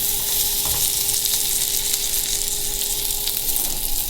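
Sausages sizzle and fry in a hot pan, a loud, continuous hiss with faint crackles throughout, close up and without talking.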